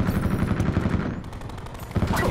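Rapid automatic gunfire rattles in a Call of Duty match, dense bursts of shots fired in quick succession, pausing briefly before another burst resumes near the end.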